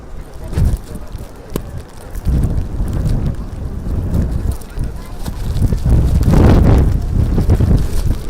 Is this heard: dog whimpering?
no